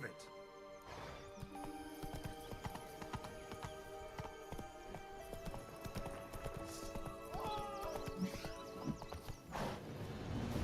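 Roach the horse in a video game, hooves clip-clopping in a steady gallop rhythm with a whinny, game music and a voice talking over the top.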